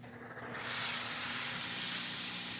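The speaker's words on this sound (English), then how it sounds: "Get that steam coming out." A car detailing steamer lets out a strong, steady hiss of steam that starts abruptly and holds loud and close without pause.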